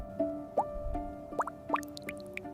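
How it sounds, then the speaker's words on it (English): Water drips from drip irrigation emitters on black tubing in a desert planting, a few soft plops falling irregularly, close and quiet with no voices. "Along every row runs a black tube fitted with drip emitters, drip irrigation."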